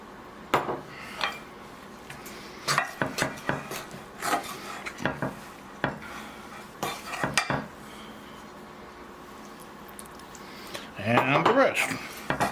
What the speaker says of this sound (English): Mix it up with a fork so it all pulls together.